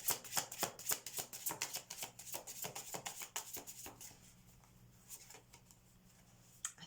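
Tarot cards being shuffled and drawn at a pick-a-card reading, a quick run of crisp, close flicking riffles that thin out into a few softer single snaps near the end.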